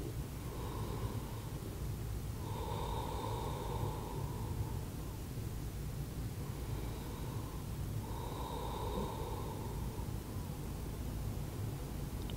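Slow, deep breaths are taken while holding a yoga pose: a few long inhales and exhales, evenly spaced, soft and close over a steady background hiss.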